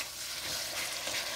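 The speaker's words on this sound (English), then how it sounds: "Fry potatoes for 1 minute." Diced potatoes frying in a pan, the first vegetables in for vegetable fried rice: a steady, close, dense hiss of sizzling oil throughout the brief moment.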